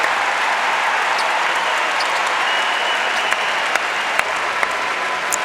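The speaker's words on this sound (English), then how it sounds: "getting a well-deserved round of applause from this North Carolina crowd" A North Carolina basketball crowd applauds steadily in an arena, a dense sustained clatter of clapping with a few sharp claps standing out near the end.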